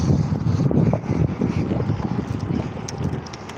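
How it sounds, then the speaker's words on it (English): Strong gusting wind buffeting the microphone while riding a vintage bicycle on the road from Hull to Hornsea, a loud, rumbling low roar that surges and eases without a break, no voices. "That wind though. That is horrible."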